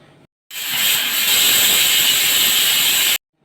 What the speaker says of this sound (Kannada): ಕುಕ್ಕರ್ಗೆ ಮೂರು ವಿಷಲ್ ಮಾಡ್ಕೊಬಿಡೋಣ